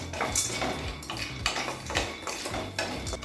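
Half a cup of peanuts is being roasted in a pan for peanut tomato chutney, with close scraping and clinking of a metal spoon against the pan in an irregular stirring rhythm.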